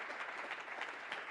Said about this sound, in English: let's give them a big round of applause and welcome